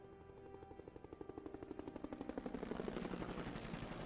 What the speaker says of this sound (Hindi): ओ हेलीकॉप्टर आ गया